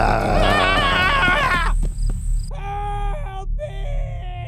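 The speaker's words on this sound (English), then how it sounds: "They could hear Chris screaming from outside." A person screams in an animated horror story, a loud sustained wavering cry that breaks off, followed by a tense musical sting and eerie sustained score tones.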